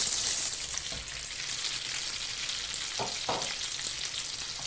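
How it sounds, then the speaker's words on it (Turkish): Chicken for fajitas fries steadily in hot oil, giving a continuous close sizzle with a couple of soft stirring scrapes and no talking. "Şöyle güzelce yavaş yavaş kızaracak"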